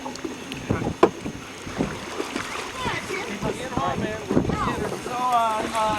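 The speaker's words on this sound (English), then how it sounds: "Why don't you keep paddling?" Wooden paddles dipping and splashing beside a canoe under sail on a river, with wind buffeting the microphone and people talking over the water.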